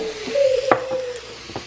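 Garlic sizzles in a very hot pan of oil for a tadka, a steady frying hiss with a brief metallic clink of a utensil against the cookware partway through.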